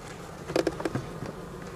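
Honeybees around a small nucleus colony hive in late summer, a few brief close buzzing passes standing out over a faint steady background hum, with no talking.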